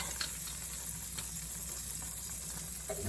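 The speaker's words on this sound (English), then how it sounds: "I'm frying some rings of onion or some onion" Steady crackling sizzle of onions frying in a hot pan, continuous and even, with small pops and no voices.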